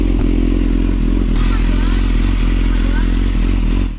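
A BMW S1000 sport motorcycle ridden on the road, its engine droning loud and steady for the whole stretch, with a couple of sharp clicks near the start and rushing wind layered over it.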